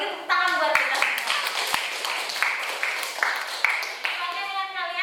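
Students in a classroom keep up steady, loud applause from nearby, many hands clapping at once while voices talk and call out over the clapping.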